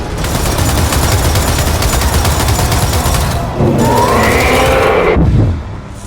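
Dense, loud gunfire rattles continuously in the Gears of War 4 prologue battle, rapid overlapping shots forming a sustained barrage that briefly dips and then surges again before fading.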